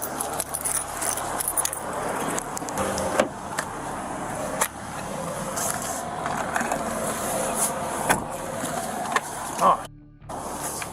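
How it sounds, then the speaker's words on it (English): A ring of house keys jangles in small metallic clinks during a police property search, close and intermittent over a noisy indoor background. "This is one of the house keys, and this is the bedroom key."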